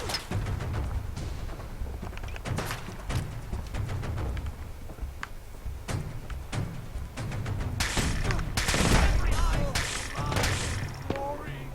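Enemies in Fallout 4 fire radiation weapons at the player: rapid, irregular bursts of sharp shots crowd together, getting denser and louder toward the end, while a voice talks over them.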